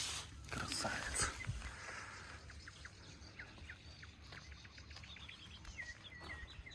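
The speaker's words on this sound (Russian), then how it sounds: "Вы слышите, сколько здесь птиц?" Many birds chirp and sing outdoors at a wildlife spot where rescued wolves are kept, with scattered high tweets and calls over a faint background and brief voices near the start.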